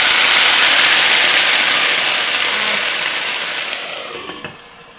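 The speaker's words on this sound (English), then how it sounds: "I add about couple of tablespoons of water." A loud sizzling hiss erupts as a couple of tablespoons of water hit beans frying in a hot pan, steadily fading over a few seconds as the steam dies down.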